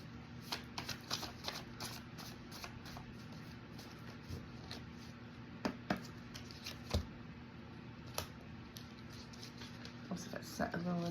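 Intuition cards being shuffled by hand, a quiet, close run of soft riffling taps and flutters in uneven bursts, with a steady low hum beneath.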